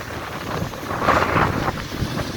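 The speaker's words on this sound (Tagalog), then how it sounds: "Dito wala, pero malakas ang hangin." Strong storm wind blows in a flooded desert area, roaring and buffeting hard against the microphone in a loud, continuous rush that swells in the middle, with no voices.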